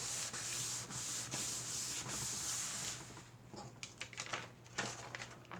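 Paper being wiped and rubbed to remove baby oil while making vellum, a steady close scratchy swishing in repeated strokes that gives way to sparser, lighter rubs and taps.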